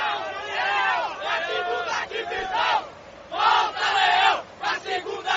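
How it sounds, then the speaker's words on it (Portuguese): A huge football stadium crowd of Fortaleza fans roaring and chanting as the team takes the field, played back from a TV report; loud surging waves of massed voices, rising and falling in bursts. "E quando o Fortaleza entrou em campo, a torcida foi ao delírio."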